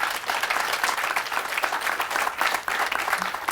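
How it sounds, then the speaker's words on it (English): Applause from an audience at a ribbon cutting ceremony, a dense, steady clatter of many hands clapping continuously at close range with no pauses. "I do think that Charlie deserves a round of applause for all of his efforts"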